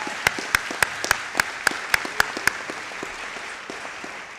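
Sparse applause at a SUNY Westchester Community College spring commencement ceremony honoring the valedictorian, a few crisp evenly spaced claps standing out over a softer wash of hands that thins and fades toward the end.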